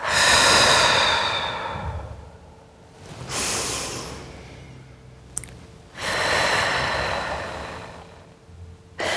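Deep breathing during an arm, wrist and finger strengthening exercise: long, loud, close-up airy breaths in and out, separated by quiet pauses, with no speech.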